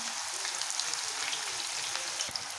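Onion pakodi frying in hot oil, a steady dense crackling sizzle that stays close and even throughout, with no talking.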